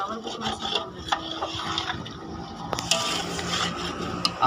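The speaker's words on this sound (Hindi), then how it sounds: "और चावल को थोड़ा सा भून लेंगे।" Rice stirred and roasted in spice masala with potatoes for chicken pulao, a steady scraping and rubbing of a spoon against the pot with small clinks, continuous and close.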